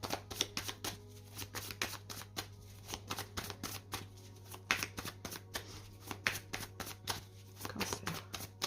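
A deck of tarot cards is handled and cut, making rapid, rhythmic papery flicks and riffles close by at low volume, with no talking.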